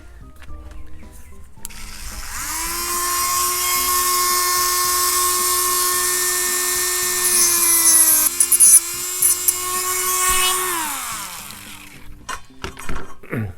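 A high-pitched rotary tool whines steadily for about ten seconds while trimming small teeth on the landing gear of a Great Planes Revolver 60 RC plane, with a brief dip in pitch under load before spinning down.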